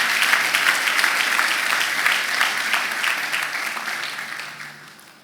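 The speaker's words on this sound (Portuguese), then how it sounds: "Aplauda o Senhor bem forte." A church congregation applauds the Lord loudly, a dense burst of many hands clapping together that slowly thins and fades toward the end.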